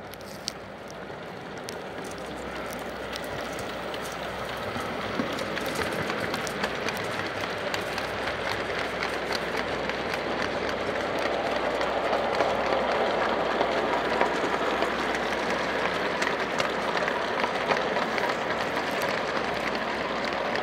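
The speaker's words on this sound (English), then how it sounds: "Decent old train this one. Wonder if it'll make it back up the grade." A small model garden railway train rumbles and clatters steadily along the track, the sound slowly building as it draws nearer, with no talking.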